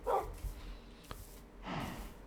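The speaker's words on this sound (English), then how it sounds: "Maybe I need to install a mod to make this dog not so loud." Dog barking in the video game Minecraft: two short, soft yapping barks at the start and end, fairly quiet over low background noise.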